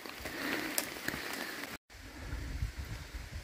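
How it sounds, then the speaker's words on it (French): Light rain falls on a pilgrimage hiking trail on the Camino in Galicia, a soft steady patter that drops out for a moment and then returns over a low rumble. "il pleut toujours un peu"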